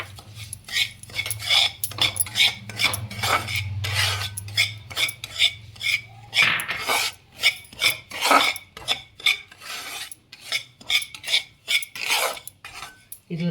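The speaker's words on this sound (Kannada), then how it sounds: "ಈಗ 1 ಸ್ಪೂನ್ ತುಪ್ಪ ಹಾಕ್ಕೊಂಡು ಈ ರವೆನ ಹುರ್ಕೊಂಡು ಬಿಡ್ತಾಯಿದ್ದೀನಿ" Semolina roasting in a spoonful of ghee, stirred in a pan for holige, with a steady run of close scraping and clinking strokes of spoon against metal and a low hum beneath.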